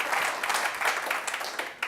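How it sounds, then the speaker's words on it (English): Audience applause at a football business panel, a fairly soft, steady patter of many hands clapping heard from a moderate distance throughout. "So I think a round of applause for all three of our panel to start with."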